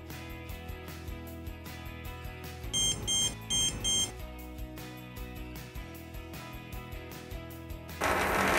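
A dog shock collar receiver, just taken out of water, gives four quick high-pitched beeps with a low buzzing vibration, all set against a steady background hum.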